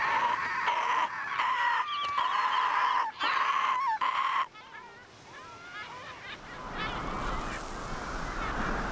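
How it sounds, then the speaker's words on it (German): Seagulls call in a cartoon scene by a river, a series of loud, close honking, squawking cries in quick bursts, then fading into a noisy background wash with faint distant calls. "Das sind doch Möwen."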